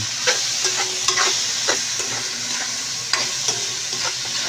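Pork pieces browning in a pan for Bicol express, a close, steady sizzle broken by repeated scraping stirs at irregular intervals.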